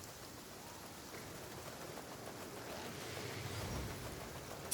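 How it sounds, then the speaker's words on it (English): Steady rain falls in a video game, a soft, even hiss that fills the scene and swells slightly toward the end with no voices present. "Did it have to be raining? Man, I didn't want no rain."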